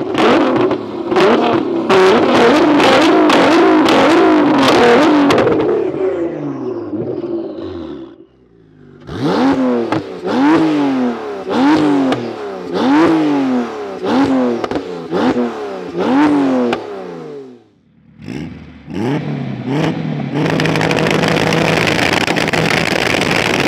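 Tuned all-wheel-drive cars, a 700 hp Porsche 911 Turbo, a 620 hp Honda DC5 Type R and a 700 hp Nissan GT-R, rev hard in turn. Loud repeated throttle blips and rising roars are broken by brief pauses, ending in a sustained engine drone.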